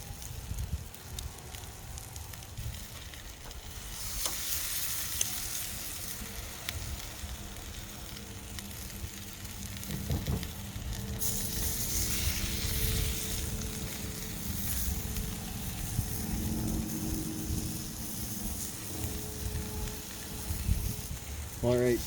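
Onions grilling on a hot grill for cheese buttons, a loud continuous sizzle and hiss that swells and fades over about twenty seconds, with no talking.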